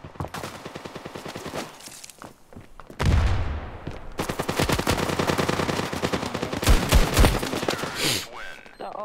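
Gunfire in the mobile shooter Standoff 2, played on an iPhone 14 Pro Max on the Province map: close, rapid automatic bursts in repeated volleys, with players talking in between.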